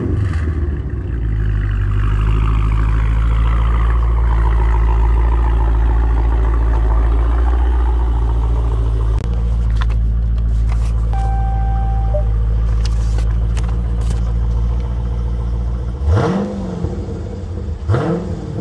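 A blue Dodge Charger Scatpack Widebody fires up close by with a loud rising rev, then settles into a deep rumbling idle, with a couple of sharp revs blipping near the end.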